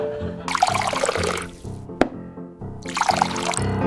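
Water poured into a pot of over-salted noodles, two long broadband splashing pours separated by a short sharp clink, over low tonal background music.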